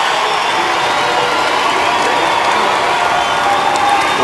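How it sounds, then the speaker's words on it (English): A packed high school basketball crowd roars and cheers for Northwest Christian at a state 2B boys championship game, a loud, steady wall of shouting and clapping that fills the gym throughout. "Listen to this crowd rocking behind us for Northwest Christian"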